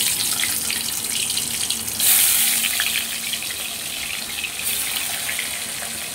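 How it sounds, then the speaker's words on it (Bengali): Boal fish pieces go one by one into hot oil in a wok, producing a loud, continuous hissing sizzle with surges as each piece drops in, close up and without talk. "তো আমি এখন একে একে মাছগুলো দিয়ে দিচ্ছি।"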